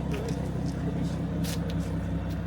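A car engine rumbles steadily at close range, a low continuous drone with faint higher hiss above it.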